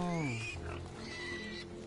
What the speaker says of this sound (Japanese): 豚さんが怖いよ。